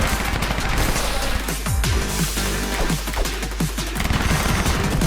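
Gunfire from the Newgrounds video game Tricky comes in rapid, loud, close bursts, with overlapping shots and booms layered into a chaotic barrage that runs the whole way through.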